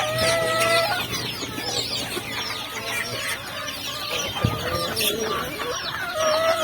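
Several backyard chickens cluck and chatter together in a busy, continuous stream, with occasional sharper squawks rising over the flock.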